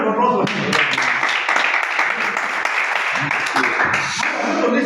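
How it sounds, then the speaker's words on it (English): Participants at a chess academy workshop give a round of applause, a dense burst of clapping from a small room of people, mixed with some overlapping voices and chatter throughout. "A round of applause for him."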